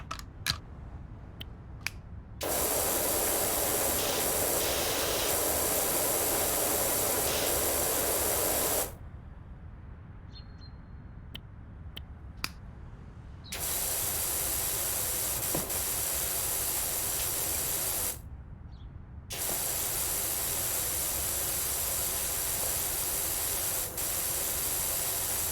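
Pressure washer spraying in Powerwash Simulator, long loud hissing bursts of spray that start and stop abruptly, separated by quieter gaps with faint clicks.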